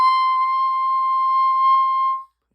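A clarinet mouthpiece played on its own gives one loud, steady, pure high squeal that holds for about two seconds before it cuts off.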